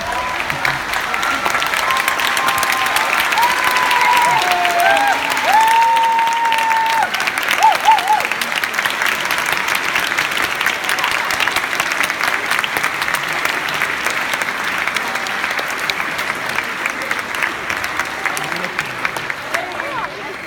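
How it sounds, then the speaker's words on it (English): A graduation audience gives a sustained round of applause for the parents, dense clapping from a large crowd that stays loud and even throughout, with a voice briefly audible underneath. "give them a huge round of applause"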